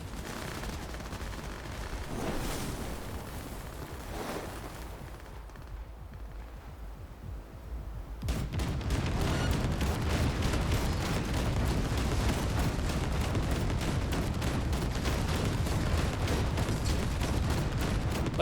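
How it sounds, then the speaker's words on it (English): Gunfire in Cyberpunk comes in a dense, loud burst of rapid shots after a quieter stretch, hammering continuously for about ten seconds with no talk over it. "They're just shooting at whatever."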